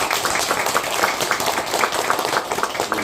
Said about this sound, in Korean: 박수 좀 부탁드리고요